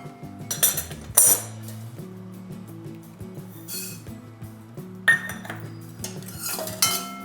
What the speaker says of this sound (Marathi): आता आपण मेथी दाणे भाजून घेऊ.